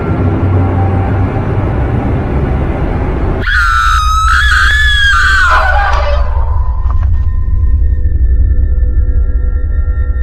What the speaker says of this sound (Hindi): सोन बोलता है बाहर से किसी के चिल्लाने की तो आवाज आ रही है।